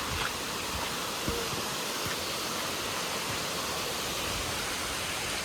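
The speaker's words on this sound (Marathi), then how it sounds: "हे बघा धबधबा." Steady, dense rushing water from a monsoon waterfall on the Bhimashankar trek roars continuously, a broad wash of falling water close by with no talking.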